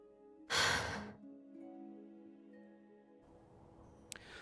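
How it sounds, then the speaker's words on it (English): A girl's suppressed breathing in the game Path to Nowhere: one sharp, breathy exhale or sigh up close, then a soft low hum and quiet stillness, with a tiny click near the end. "The room falls silent, leaving only the sound of the girl's suppressed breathing."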